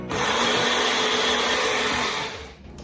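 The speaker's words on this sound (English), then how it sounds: "Going to press it down and blend." A kitchen blender whirs steadily at high speed while blending a vinaigrette for a Niçoise salad, a loud continuous motor roar that winds down near the end, with no talking.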